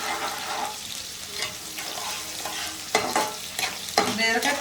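Onions fry in a pan with a soft, steady sizzle, broken by several clattering stirring scrapes that grow louder toward the end.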